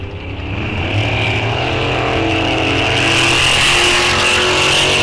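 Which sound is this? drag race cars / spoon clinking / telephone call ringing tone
drag race cars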